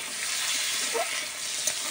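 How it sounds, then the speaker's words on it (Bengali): Small shrimp fry in a pan for a shrimp chorchori, giving a steady, close hiss of oil with a few brief crackles and pops and no voices. "ভালো করে চিংড়িটা ভেজে নিতে হবে, তাই চচ্চড়ি করবো বলে ভালো করে ভেজে নিচ্ছি।"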